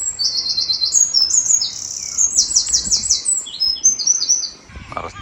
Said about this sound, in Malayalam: നിറച്ച് കിളികളുടെ സൗണ്ടാണ്.